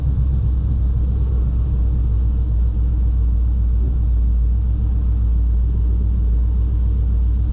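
A 1957 Chevrolet 210 Wagon engine idles at about 800 RPM, a steady, close, loud low rumble holding an even note throughout with no voices over it.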